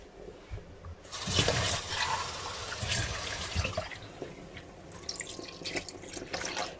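Splash of water poured into a simmering mushroom and crème fraîche sauce in a pan, a steady wet rush with drips lasting several seconds, close and fairly quiet, without talk.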